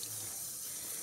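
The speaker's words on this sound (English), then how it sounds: "it would help if I turned it on cold instead of turning the cold water off" A sink tap runs water steadily in a home craft setup for dyeing canvas, a brief, even rushing splash close by with no talking.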